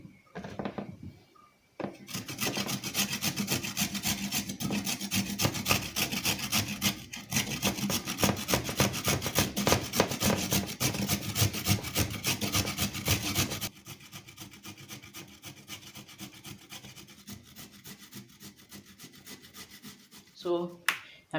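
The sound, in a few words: grating carrots with a hand grater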